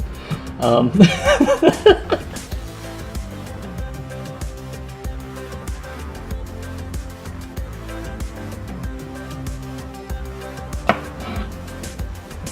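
A knife chops okra on a cutting board in quick irregular taps, fairly close, with a voice speaking and brief laughter near the start.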